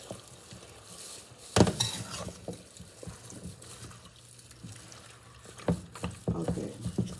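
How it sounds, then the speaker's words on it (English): Curry chicken stirred in a pot: intermittent scraping and clinks of a utensil against the pot with soft bubbling, close and fairly quiet, in scattered bursts. "And again, you want to stir it up."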